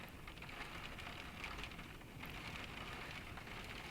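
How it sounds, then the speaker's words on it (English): Soft, steady patter of rain tapping against a window, faint and continuous with scattered brighter drop hits and no talking. "But I heard the rain hitting the window here."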